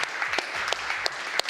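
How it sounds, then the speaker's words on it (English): Audience applause at a digital marketing awards ceremony: a brief, dense patter of many hands clapping, moderately loud and steady, with a few sharper individual claps standing out. "give him a round of applause"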